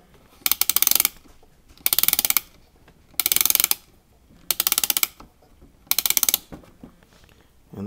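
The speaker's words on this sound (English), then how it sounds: "The machine is wound up with a key." A key winds the spring of a Lioret "Le Merveilleux" phonograph, the mechanism ratcheting in five short bursts of rapid clicks separated by pauses, close and crisp.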